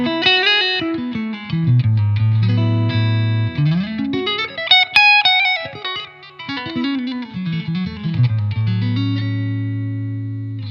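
Electric guitar through a Laney Loudpedal amp on its clean channel, playing a melodic phrase of sliding bends and sustained notes, bright and close with a light effect shimmer.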